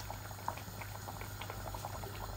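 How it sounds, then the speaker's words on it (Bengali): A pot of chicken and potato curry, a thick bhuna with just a little water, comes to a boil with steady soft bubbling and popping close by, over a constant low burner hum, with no voices. "এই দেখুন বলক এসে গেছে।"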